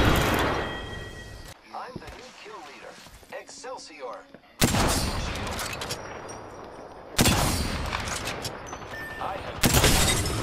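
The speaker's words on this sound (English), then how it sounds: "Eat that frag grenade, bud." A frag grenade blast in Apex Legends hits loud and sudden, followed by further sharp bursts and gunfire, with a voice talking in the quieter stretches between.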